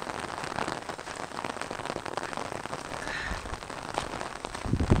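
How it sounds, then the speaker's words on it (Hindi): Heavy rain pours steadily onto surfaces nearby, a dense, constant hiss and patter with no voices. "तेज बारिश।"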